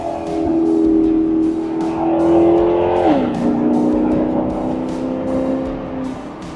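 2015 Maserati GranTurismo MC Convertible's 454 hp V8 revving hard under acceleration, a loud, rich engine note that climbs, dips briefly as it shifts, then keeps pulling steadily, heard from inside the car with no talk over it.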